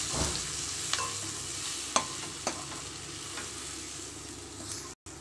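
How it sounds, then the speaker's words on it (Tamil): Masala powder is stirred into fried tomato and onion in a pan, a soft steady sizzle with a few sharp utensil scrapes and clicks, alone and close. "இப்போ மசால் பொடியெல்லாம் போட்டுக்கலாம். போட்டு அதையும் ஒரு பரட்டு பரட்டி விடுங்க."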